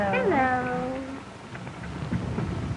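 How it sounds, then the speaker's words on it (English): A cat meows with a rising then falling cry at the start, close and clear, followed by quieter room noise and faint murmuring in an old 1930 film scene. "Ooh, nice kitty, kitty, kitty."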